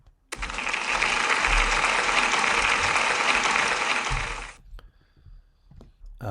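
A school celebration assembly breaks into a round of applause for a pupil, dense clapping from a crowd of children and staff that swells suddenly, holds steady for about four seconds, then stops abruptly, leaving quiet room noise.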